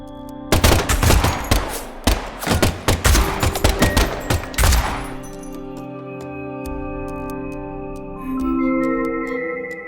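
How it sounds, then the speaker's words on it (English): Gunfire in the video game Deadly Premonition 2: a loud rapid burst of shots for about five seconds with clinking, then ringing tones fade out. "the last gunshot we heard sounded ominous, Zach"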